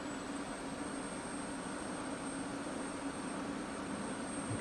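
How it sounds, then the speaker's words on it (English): Single jet engine of an F-16 spooling up during startup in the DCS flight simulator, a steady whining roar with a high thin tone running throughout, constant and moderately loud. "Right, start the engines."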